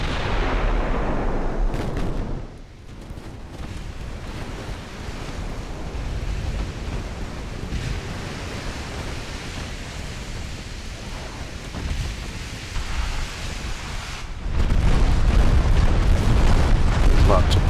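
16-inch battleship guns firing in the naval game Ultimate Admiral Dreadnought, heavy rumbling booms at the start and again near the end, with a lower ongoing roar of battle and ocean between them.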